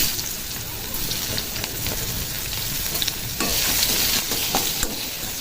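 Chopped onion frying in a little oil after black cumin seeds were tempered, for a hilsa fish curry: a dense, steady crackling sizzle with scattered pops and occasional spoon scrapes, close and continuous, with no talking.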